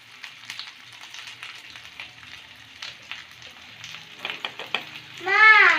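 Spices frying in oil in a pan, with chili powder added while cooking egg fried rice; a steady soft sizzle with scattered crackles, rising to a louder hiss near the end.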